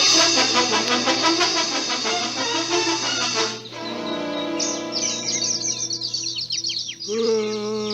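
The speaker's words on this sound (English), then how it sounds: "The birds are making me nervous." Birds in the animated film Snow White chirp and trill in dense, rapid bursts over a shrill bright bed, some calls close and loud, continuing throughout with varying pitch.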